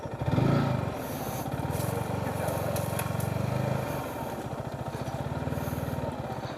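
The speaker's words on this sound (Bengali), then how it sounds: "আমাদের পিছনে একটা বাইক আসতেছে" A motorcycle comes up from behind on an evening ride beside the Padma River, its engine droning steadily and loud for most of the stretch, with a brief scraping rub near the start and no talk.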